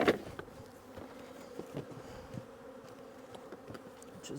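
Honey bees buzz around a beehive during fall work, a soft continuous hum with scattered louder passes of individual bees, fairly faint and close.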